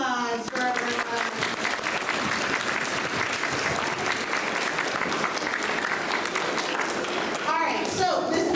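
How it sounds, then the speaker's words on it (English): Students at a school honor roll assembly give sustained applause, a thick steady clapping that continues for the full stretch, with a voice briefly audible at the start and the end. "another round of applause for everyone"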